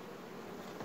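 Honey bees buzz steadily in front of their hives after a hard sunflower harvest, with many dead bees lying there. It is a dense, continuous swarm drone that holds an even level throughout the short moment.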